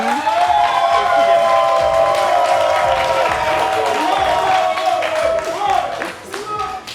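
A studio audience at the French TV show Le Vrai Match claps and cheers in a full, sustained burst that tapers off toward the end.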